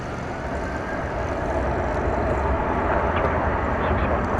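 A steady, broad roar of a jet airliner arriving at DFW Airport from New Orleans, heard from a distance and holding at an even level throughout.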